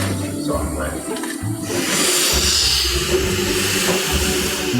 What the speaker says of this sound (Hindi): ट्रेन के चलने से पहले ही इंजन में स्टीम को रेडी कर लिया जाता है।